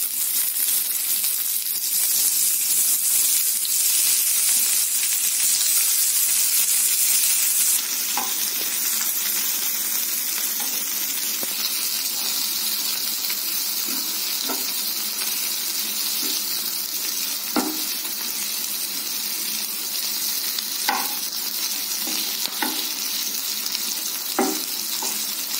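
Tomato and coriander leaves sautéing in a pan for drumstick leaves soup, a continuous, moderately loud sizzle with occasional soft clicks of stirring and no talk.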